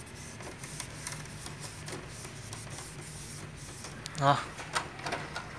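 A Sony M100 mini stereo system's CD tray loads a disc, giving a short mechanical whirr and clunk near the end, close and moderately loud, after a man's brief spoken syllable over low background hum.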